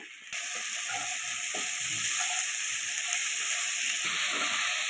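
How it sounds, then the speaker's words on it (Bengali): Potatoes fry in a pan with salt and turmeric, a close, steady sizzling hiss that starts suddenly and holds evenly, with soft stirring clicks underneath. "লবণ হলুদ দিয়ে আলুটাও ভেজে নিচ্ছি"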